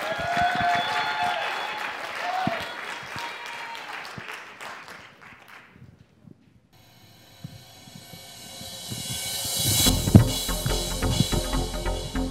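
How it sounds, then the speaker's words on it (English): An audience at a college electronic music concert breaks into sustained applause that thins out midway, then swells again into a louder, denser burst of clapping. "let's give a round of applause for that"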